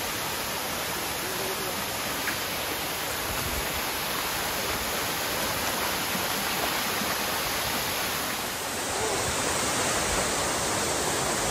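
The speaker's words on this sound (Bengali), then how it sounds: "এই সেই তৈদুছড়া ঝর্ণা।" The Toiduchhara waterfall roars as a steady, dense rush of falling water, loud and close, unbroken for the whole stretch with no voices on top.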